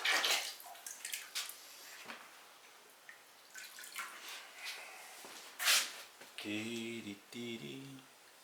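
Glaze being poured and swirled inside a pottery bud vase for raw glazing before a single firing, with intermittent liquid sloshing and splashing close by between spoken instructions.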